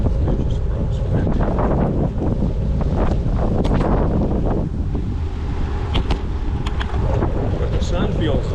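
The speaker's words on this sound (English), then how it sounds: "There's just crosswind." Steady wind buffets the microphone during a bicycle ride on a crosswind day, a loud continuous roar with gusty swells and faint crackles throughout.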